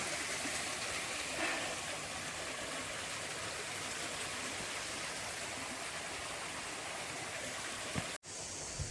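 Cold mountain stream water flows along a ghat trail near Padargad and Kothaligad, a soft, steady babble heard close by, broken by a brief knock near the end.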